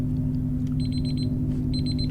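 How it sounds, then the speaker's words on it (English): In the Heat Death Train video game, a storm timer alert sounds as two bursts of rapid, evenly spaced high electronic beeps over a loud, steady low drone of game background noise. "there's my timer telling me the storm is imminent"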